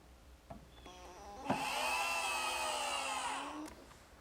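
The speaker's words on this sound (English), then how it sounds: "being sure to pre-drill some holes in this hard oak, just fasten it with the screws" A power drill drives screws to fasten a hinge into hard oak, with a steady whirring run of about two seconds between faint clicks and handling taps, fairly quiet and close.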